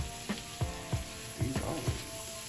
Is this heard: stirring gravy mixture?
yes